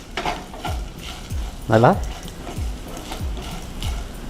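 Grated coconut is sautéed in a pan for coconut rice, with steady scraping stir strokes over a soft sizzle. Someone talks over the stirring throughout.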